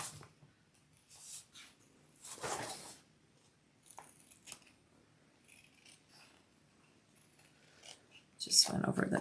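Scissors trimming the fabric edge of a sewn wallet, with a few short snipping and rustling bursts close by, quiet between cuts, and a louder handling noise at the end.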